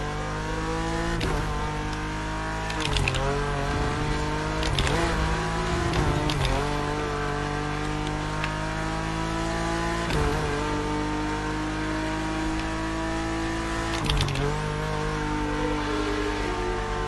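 Race cars run over rumble strips and drift around corners, with a continuous close engine drone whose pitch shifts as they rev and ease off, broken by brief rough bursts throughout.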